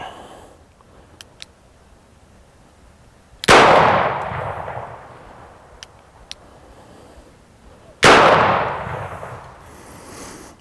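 A Smith & Wesson Governor revolver loaded with number 4 shot fires two loud, close blasts several seconds apart, each with a long decaying echo and faint clicks in between.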